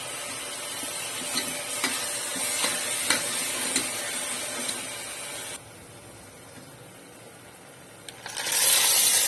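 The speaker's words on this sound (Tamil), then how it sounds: "மக்ருனியை இதிலே சேர்த்து வதக்கிக்கலாம்" Macaroni sautés in a hot pan with a steady sizzling hiss and light scraping stirs, briefly quieter midway before a louder burst of sizzle at the end.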